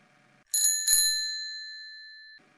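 A newspaper boy's bicycle bell gives two quick rings, then a bright metallic tone rings on and fades out slowly over about two seconds, close and clear.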